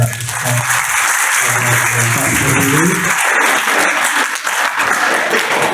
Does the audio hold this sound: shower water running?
no